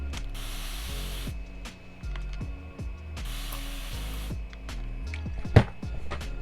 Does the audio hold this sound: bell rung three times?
no